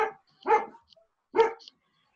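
A dog gives two clear barks about a second apart, at moderate distance, alone against a quiet background.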